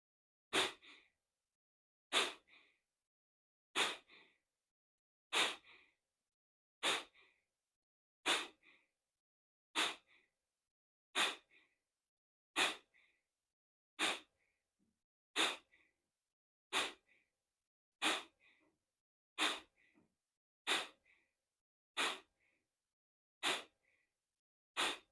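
Rapid, forceful breath-of-fire exhales in a steady, even rhythm, about one sharp nasal puff every one to two seconds, close and clear against silence with no talking.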